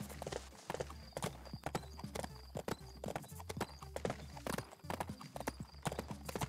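Horse hooves clatter in a horse-riding video game, a fast, loud, continuous clip-clop of galloping with steady rhythmic beats.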